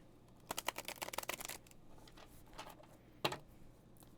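Playing cards being shuffled by hand, a fast flurry of crisp riffling clicks for about a second, then a lone snap of cards near the end, close and fairly quiet.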